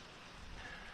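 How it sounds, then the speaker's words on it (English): Rain falls outside on a mountainside in Italy, a faint, steady hiss of drops with no other sounds standing out. "It's still raining now."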